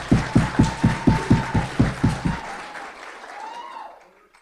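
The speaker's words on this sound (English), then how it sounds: "So round of applause for" Audience applause at a public lecture, beginning as a strong rhythmic unison clap of about ten beats under a held tone, then loosening into scattered clapping that fades away.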